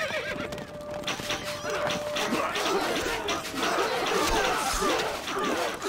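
Horse neighing with clip-clopping hooves in the Stronghold Crusader strategy game, set among constant battle ambience and crowd noise, with a sustained whinny early on and hoof sounds continuing throughout.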